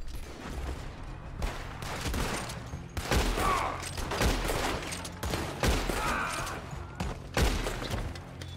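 Gunfire in Red Dead Redemption 2, a rapid fusillade of repeated shots with booming thuds, loud and continuous across the clip in irregular bursts, without talk.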